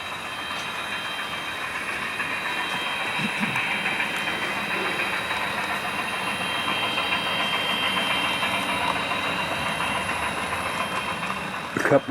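A model train coasts down a 2% grade on a layout, a steady, moderately loud rolling rumble and faint clicking of wheels lasting throughout, with a small clunk at the very end.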